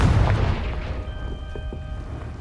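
A Confringo blasting spell explodes in Hogwarts Legacy, a deep booming blast that starts loud and rolls off into a low rumble, with faint magical tones ringing afterward.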